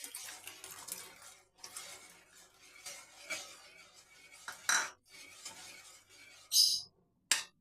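A pan of tomato halwa being stirred continuously with a metal spoon, giving a steady run of scraping and clinking against the pan, with a few sharper, louder knocks near the end.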